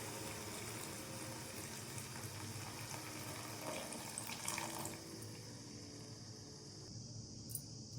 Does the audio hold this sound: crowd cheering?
no